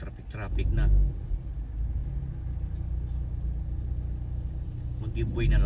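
Road traffic in Manchester, UK: a steady low rumble of passing cars and heavier vehicles, with a brief brake hiss, continues under a person talking.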